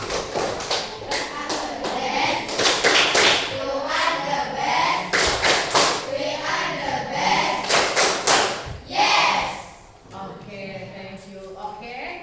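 Group of children doing a rhythmic classroom clapping routine called 'tepuk the best' in a teacher's lesson, with sharp repeated claps in bursts alongside chanting voices, loud and close throughout.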